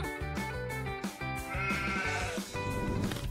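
Sheep bleating against a dense, steady musical backing in a cartoon-style school comedy scene, with repeated wavering calls spread across a few seconds and no talk over them.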